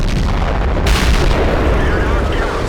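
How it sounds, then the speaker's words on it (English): Sturer Emil tank destroyer firing its gun in World of Tanks, one loud booming shot close up that rumbles on through dense battle noise. "I am taking another shot at the IS"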